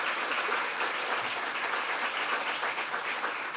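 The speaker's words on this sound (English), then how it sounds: "I'd just like you all to please welcome Jane Harper with a big applause." Audience applause welcoming an author at a book event, a steady wash of many hands clapping, fairly distant and moderately quiet, with no talking over it.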